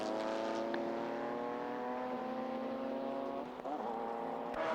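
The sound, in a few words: race cars in 1996 JGTC race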